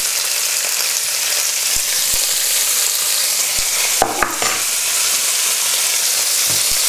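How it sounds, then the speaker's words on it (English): Pancetta frying in a pot for a one-pot chicken stew, a steady close sizzle running throughout, with a few brief knocks and scrapes of stirring near the middle. "So what I'm going to do next is put the pancetta in there."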